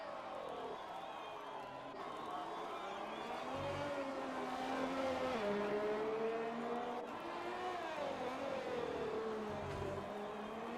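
An F1 car engine in the F1 2020 video game during a lap at the Vietnam circuit. A high, steady engine whine holds throughout, and its pitch rises and dips through gear changes under continuous commentary.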